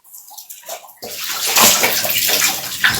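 Water splashes and pours close by during bathing, starting quietly and then gushing loudly and steadily from about one second on, with little else audible.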